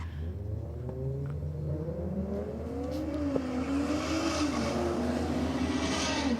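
Audi RS3 accelerating hard down a drag strip, its engine note climbing steadily through the gears in one continuous, loud, close roar with a rising whine.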